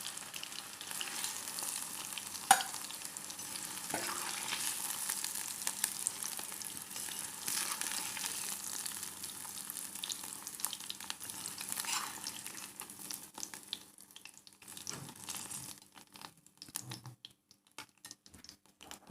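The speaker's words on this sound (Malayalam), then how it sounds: "കുറച്ച് നേരം ഫ്രൈ ആവും" Brinjal (eggplant) sizzles steadily as it fries in a pan, with a broad hiss and occasional stirring clatters that thin out toward the end.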